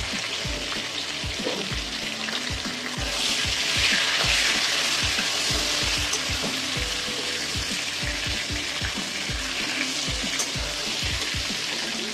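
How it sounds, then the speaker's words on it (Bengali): Pointed gourd (potol) pieces frying in hot oil for a fish curry, giving a steady, dense sizzle with crackling pops that runs throughout, close up and with no talking. "পটলগুলো ভেজে নেব"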